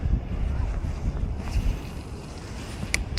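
Gusty wind blows against the microphone on a lakeshore while trout fishing from the bank, a low, steady rumble with fluctuating buffeting and a couple of faint clicks near the end.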